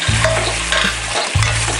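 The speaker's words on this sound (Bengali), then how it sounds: "এখন আমরা আগে থেকে ভেজে রাখা আলুগুলো দিয়ে দেব" Bengali mutton kosha is stirred in a pan as pre-fried potatoes go in, producing a loud, close sizzle and scraping stir, with a brief break and then a fresh burst of frying.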